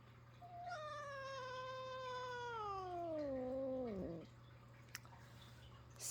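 A pet cat named Sassy lets out one long, drawn-out meow that slides downward in pitch and ends abruptly, close and clear against a quiet room with a faint steady hum.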